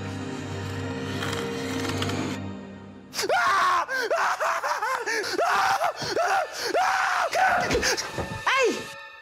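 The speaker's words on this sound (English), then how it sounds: "What's with all the screaming?" Repeated loud, rising-and-falling screams in a comedy horror parody, a rapid series of shrill cries following a low rumbling start, with gasps between them.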